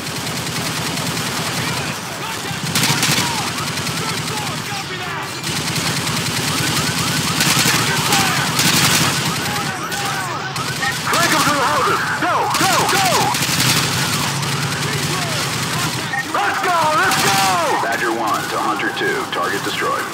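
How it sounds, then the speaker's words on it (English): Sustained suppressing gunfire from a squad in Call of Duty Modern Warfare 2, dense overlapping automatic bursts that run through the whole stretch alongside battlefield noise and shouted voices. "Squad, put suppressing fire on that house."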